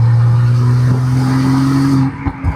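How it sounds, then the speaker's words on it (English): Loud, close intake roar of a BMW M340i with its B58 engine and exhaust valves closed, a steady droning growl under load that drops off near the end with a few faint mechanical clicks. "Oh my gosh, the intake sounds crazy with the exhaust quiet"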